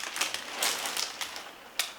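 Crinkly plastic wrappers from boxes of tea handled on a garbage pile, giving a crisp, scattered crackling with several sharper rustles, fairly close and heard on its own.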